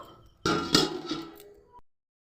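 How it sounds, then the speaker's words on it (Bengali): A metal lid drops onto a cooking pot of simmering potol with one sharp clank, then a brief ringing rattle that fades to silence. "চলুন এবারে ঢাকা দিয়ে দিই ভালো করে সিদ্ধ হওয়ার জন্য।"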